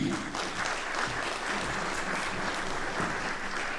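A film screening audience in Montluçon applauds the bearded guest Dylan Boutry, a dense, steady wash of many hands clapping that holds evenly for the whole stretch with no voices on top.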